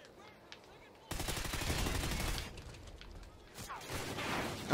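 Video game gunfire crackles as a rapid burst of shots from about one to two and a half seconds, with scattered quieter shots afterward and a sharp sound at the very end.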